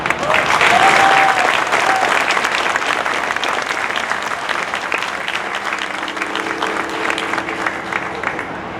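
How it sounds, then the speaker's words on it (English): An audience at an army basic training graduation at Fort Sill, Oklahoma breaks into sustained applause for a drill sergeant, a loud wash of clapping that peaks early then gradually thins, with a whistle and some voices mixed in. "Please join me in a round of applause for the drill sergeant."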